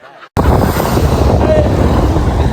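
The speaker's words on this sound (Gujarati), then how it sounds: "દરિયા કાંઠે ઊભો છો ફૂલ પવન આવે છે" Strong gusting wind at the seashore roars loudly and constantly over the microphone, a heavy rumbling buffet that fills the sound after a brief quiet start, with a voice faintly present.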